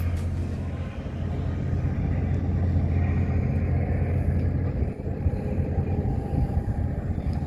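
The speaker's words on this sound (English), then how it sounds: "River cruise just taking off." A steady low engine rumble with churning water noise, a river cruise boat motor running and pulling away in Holland, fairly close and continuous.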